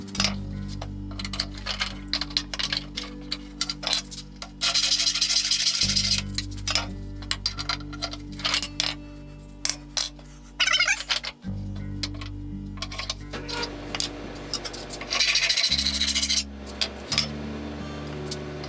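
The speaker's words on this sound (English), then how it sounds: "While I'm at it, I might as well just cut off both ends." Saw cutting off both ends of a bamboo handle for a broken vise, a steady droning machine run interrupted by several pauses, with clicks and clinks from handling in between; loud and close, with no talk.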